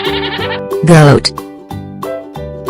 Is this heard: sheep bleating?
yes